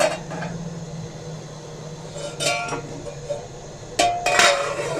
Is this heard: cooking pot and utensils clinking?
yes